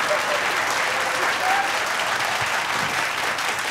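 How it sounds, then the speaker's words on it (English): Dense, steady audience applause at a televised Indian TV awards ceremony, loud and continuous with crowd noise and no pause for its full length. "I expect more applause for me than Karan"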